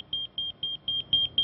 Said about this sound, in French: Voilà un message sur mon bip.